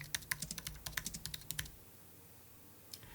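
Text is typed on a computer keyboard: about twenty quick, crisp key clicks in an uneven run over the first second and a half, then quiet, then one last tap, close and fairly soft.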